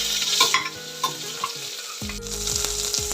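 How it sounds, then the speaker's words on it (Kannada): Onion sizzling in hot oil for the tempering of a tomato bath, a close, steady hiss with light stirring clicks and pan knocks, no talk. "ಒಗ್ಗರಣೆಗೆ ಹಾಕ್ತಾ ಇದ್ದೀನಿ ಟೊಮೊಟೊ ಬಾತ್ ಮಾಡೋಕ್ಕೆ"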